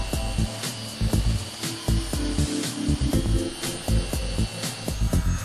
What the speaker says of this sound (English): the excess PU material is sanded down with the FEIN eccentric sander